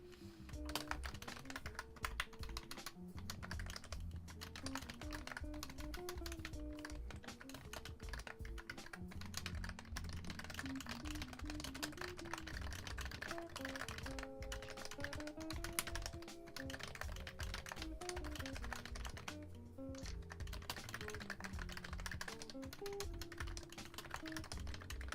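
A mechanical keyboard fitted with BKE domes and artisan keycaps runs through a typing test: rapid continuous keystrokes with a clacky rhythm, close and fairly quiet, with faint music underneath.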